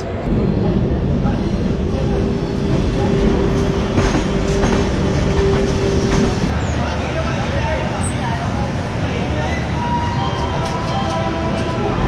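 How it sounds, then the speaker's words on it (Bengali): Ranchi LTT Express train rolling past on rails, a steady loud rumble with rhythmic wheel clatter and a brief squeal, with voices talking underneath. "Ranchi LTT express."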